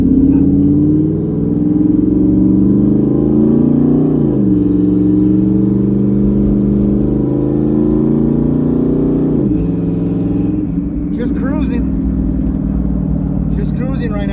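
Turbocharged Ford Mustang GT (S550) with an S475 T6 turbo running at low revs while warming up, a loud steady engine drone with a few gentle rises in pitch, close and continuous with no boost.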